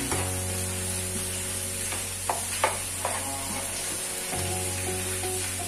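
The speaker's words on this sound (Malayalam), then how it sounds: "ഉടച്ചുടച്ച് ഇളക്കി കൊടുക്കണം" Potato bonda filling being mashed and stirred in a hot pan, a continuous sizzle over a steady low hum with a few soft spoon scrapes and knocks, close and without talk.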